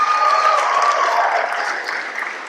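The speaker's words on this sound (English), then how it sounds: "Round of applause," A round of applause from an audience at an Australian Embassy event, steady dense clapping, fairly loud and sustained, tapering slightly toward the end, with no talk over it.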